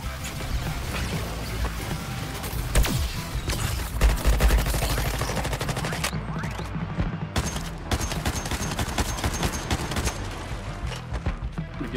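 Sustained heavy gunfire in Suicide Squad: Kill The Justice League, a dense stream of shots and impacts that runs unbroken and loud throughout.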